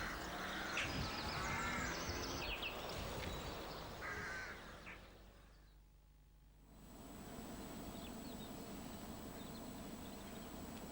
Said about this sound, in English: Rooks are with us all the year round, with numbers estimated at around 3 million birds.